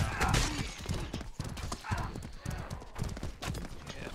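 Horse hooves gallop in a rapid clip-clop rhythm during a Frontline battle on the winter map in the video game Mordhau. The hoofbeats are close and steady, mixed with voices talking throughout.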